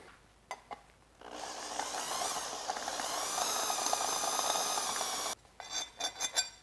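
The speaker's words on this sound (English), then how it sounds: "And then we're going to drill these out until," Drilling through a steel brace with a high-speed steel step bit while installing a lift kit on a Nissan Xterra, a steady, loud whirring grind lasting about four seconds between short bursts of handling noise.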